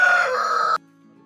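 A rooster crows loudly and close on a Kenyan poultry farm holding about 1,200 birds, the call ending abruptly, followed by faint low clucking and hum of the flock.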